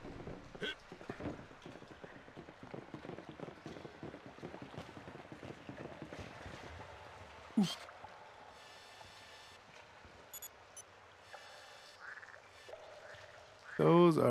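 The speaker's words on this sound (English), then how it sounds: "I imagine it's supposed to be some sort of bullfrog." Frogs croak in the Beyond Good and Evil video game as irregular low calls amid watery ambience and wind-like noise, with sporadic sharper effects and a burst at the end.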